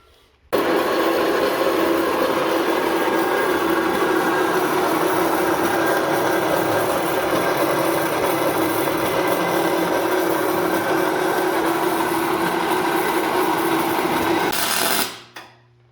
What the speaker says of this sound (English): we'll go ahead and get this fired up, lay it in there flat, and cut about 3 1/8 off